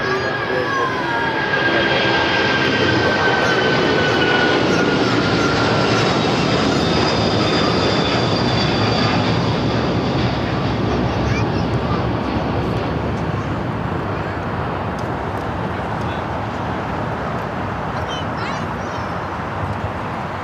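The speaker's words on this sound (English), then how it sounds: "Cargolux now about to rotate off of 25 left" A Cargolux cargo jet takes off from runway 25 left at LAX, a loud, steady engine roar with whining tones that holds for around twenty seconds and eases slightly toward the end.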